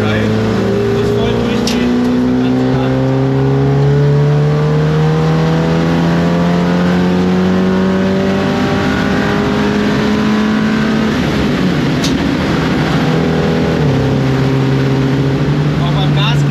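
A tuned Volkswagen Golf 7R with a high-end engine control unit on a test drive, its engine droning steadily under load and rising in pitch through gears, with a shift near the end, heard from inside the cabin.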